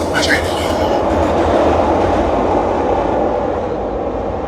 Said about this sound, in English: Train again.